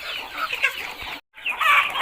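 Chickens around two to three months old cluck steadily on a Thai chicken farm, a close, busy flock with overlapping calls that break off for a brief moment before resuming loudly.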